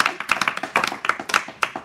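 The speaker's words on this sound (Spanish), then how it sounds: "Bueno, aplaudir, ¿no?" A small group claps hands in a loose, uneven rhythm, each clap sharp and close, for a few seconds with no talk over it.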